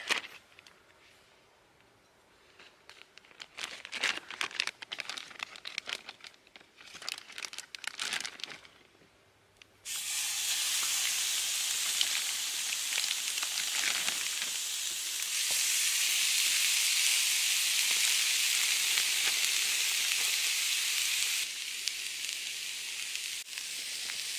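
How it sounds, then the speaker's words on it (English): Steak on a Solo Stove: after a stretch of crinkling and rustling, a loud, dense sizzle bursts in and holds steady, close up, with no talking. "I'm going to put on the steak"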